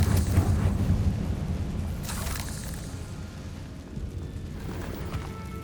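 A Confringo blasting spell explodes in Hogwarts Legacy, a loud rumbling boom with a second burst partway through, settling into a sustained roar and crackle.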